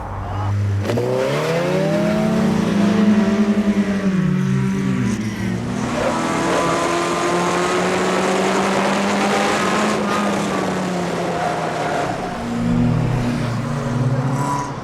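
A race car on a track, its engine howling loud and close as it revs up and down through the gears in one continuous run, with brief dips as it shifts.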